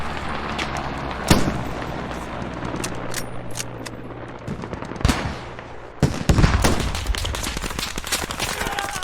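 Bursts of automatic gunfire in the military shooter game Squad, with a sharp nearby shot, a heavier double blast midway and a dense rattle of rapid fire toward the end over steady battlefield rumble.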